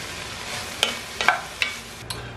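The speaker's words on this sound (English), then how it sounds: "Okay, so I sweat these vegetables." Vegetables sweating in a pan for minestrone soup: a soft, steady sizzle with a few sharp clicks of a spoon against the pan, close and quiet with no speech.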